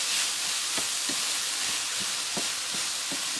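Sweet potato, zucchini, ground beef and Brussels sprouts sauté in a pan with a steady, close sizzle, broken by a few soft clicks and scrapes from stirring.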